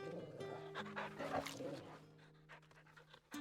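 Rapid rhythmic panting from a dog in the Final Fantasy XVI video game, steady breathy puffs close by, layered over soft music with brief whimpering yips.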